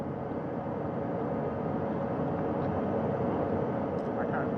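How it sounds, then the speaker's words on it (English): A steady, droning rotor and engine roar from a recovery helicopter hovering about 40 feet over water, constant and moderately distant, with no talking. "Helicopter 1 again hovering 40 feet over the front porch"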